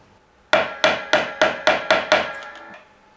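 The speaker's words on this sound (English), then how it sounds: "I should be tapping it with a fret hammer" Seven crisp, evenly spaced metallic taps of a fret hammer on guitar frets ring out in quick succession, each bright strike decaying briefly, then a couple of fainter taps trail off.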